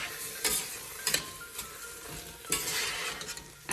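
Moong dal and raw rice are stirred in a pan, giving a close, gritty scraping and rustling with soft sizzling, in a few distinct strokes over a few seconds.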